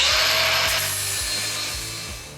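An angle grinder fitted with a flap disc works metal while a bevel is chased into the end of a part for a 1967 Sears Custom 6 mud mower build. It gives a steady, high, continuous grinding whine with rhythmic low thumps underneath and no talk.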